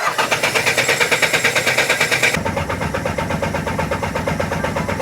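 A car engine, just after a timing adjustment, cranks loudly in rapid rhythmic pulses for a couple of seconds. It then catches and settles into a steady, rough running idle up close, with no voices.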